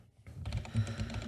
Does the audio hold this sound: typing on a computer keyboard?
yes